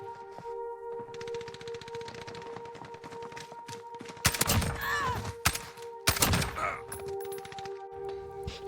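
Gunfire in a multiplayer shooter game: a few loud sharp shots and bursts cut through a steady hum and a patter of quieter clicks, with brief gaps of calm between them.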